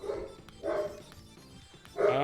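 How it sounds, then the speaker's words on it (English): Dog barking in agitated bursts in the SNES game Chuck Rock, three loud yelping outbursts spaced over a couple of seconds against game music. "Dog's freaking out."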